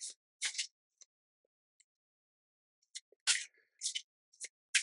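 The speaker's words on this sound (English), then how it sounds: "let's give them a shuffle" Tarot cards are shuffled close up in short crisp riffling bursts separated by silent pauses, with a few faint taps between.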